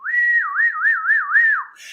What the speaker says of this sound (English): They all whistled.